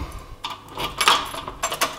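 Keys jangle and rattle close up in a series of short metallic clinks and shakes while someone fumbles to unlock a door, with no talking.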